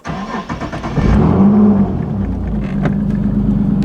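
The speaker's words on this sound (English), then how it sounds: "and then we start the car" A turbocharged Nissan 370Z Nismo engine cranks and catches after some brief clicks, then settles into a loud, steady idle rumble close by.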